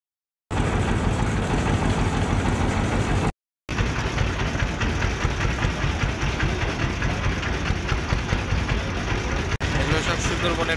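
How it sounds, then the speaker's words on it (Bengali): A Sundarbans tourist boat's engine runs with a steady, close, chugging drone through most of the stretch, briefly cut off once, with people talking over it. "এগুলো সব সুন্দরবনের পর্যটন নৌকা।"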